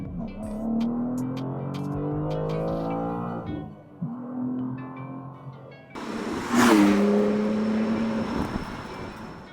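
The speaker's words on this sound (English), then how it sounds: "The exhaust on this car does not sound good at all." A 2025 BMW M2 exhaust heard from outside, a muffled low drone that rises under acceleration, cuts off briefly, then comes back louder with a rush of wind noise as the car passes close.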